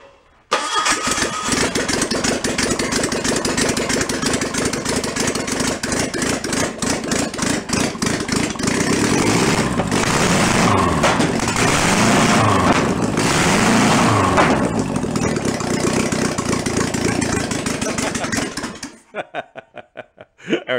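An air-cooled VW bus engine being run after repair on a blown-up motor, a steady loud running drone that holds for about eighteen seconds before cutting off, with a brief burst at the very end.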